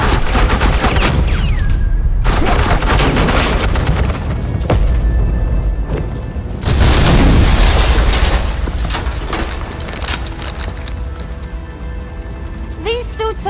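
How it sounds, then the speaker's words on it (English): Bursts of suppressing gunfire in the Batman: The Enemy Within game, loud dense volleys and booms that come and go in waves over a rain-like background roar, with sharp cracks scattered throughout. "suppressing fire."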